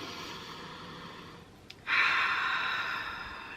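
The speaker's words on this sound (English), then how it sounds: "The first step is to take a breath" A slow, deep breath drawn in close to the mic, rising suddenly about halfway through and holding as a steady airy rush against quiet room noise.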